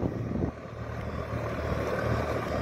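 A 2021 model 855 tractor, rated at 42 to 43 horsepower, runs with a steady, low, rumbling engine drone that dips briefly near the start and then holds even, with no talking.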